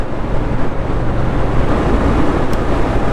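Royal Enfield Scram 411 single-cylinder thumper engine at speed, a steady low rumbling drone with heavy wind buffeting over the microphone, loud and continuous throughout.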